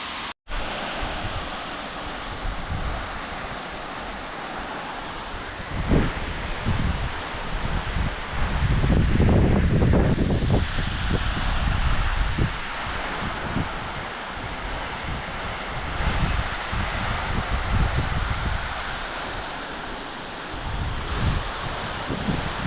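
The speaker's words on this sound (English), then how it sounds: "That is a big waterfall" A big waterfall gives off a steady, broad roar. It is heard from a distance in the open air, mixed with wind buffeting the microphone and rustling nearby, and it grows louder for a few seconds midway. No voices are heard.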